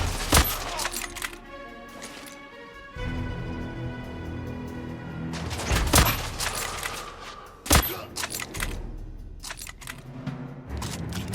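Gunfire in The Order: 1886 cracks out in sharp, loud bursts separated by stretches of rumbling, clattering action noise and metallic rattles, with a few heavy single shots standing out.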